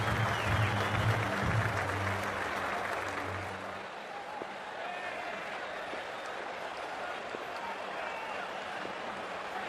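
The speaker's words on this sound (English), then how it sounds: "We're about to get underway and already the crowd is up and about." A stadium crowd roars and applauds in a cricket video game as a match gets underway, a broad steady wash of cheering that stays loud throughout, with a commentator's voice over it at the start.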